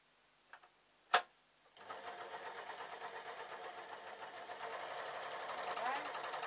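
A domestic sewing machine stitching an unlined, collarless jacket: a few soft clicks and a sharp tap, then a fast, even run of mechanical stitching that grows slightly louder and busier toward the end.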